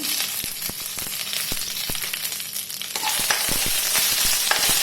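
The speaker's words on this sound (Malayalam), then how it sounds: "ഇനി നമുക്ക് നന്നായിട്ട് ഇതിനെ ഒന്ന് ഇളക്കി കൊടുക്കാം" Kerala moru curry with curry leaves sizzles in a pan while a spoon stirs it, steady frying crackle broken by sharp scraping clicks and taps at an irregular pace.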